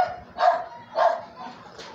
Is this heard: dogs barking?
yes